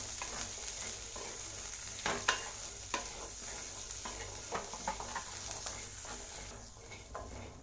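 Black chana sautés in oil with garam masala, chaat masala and salt, giving a soft continuous sizzle with intermittent scraping stirs and light clicks, close but moderately quiet, no talking.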